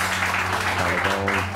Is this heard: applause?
yes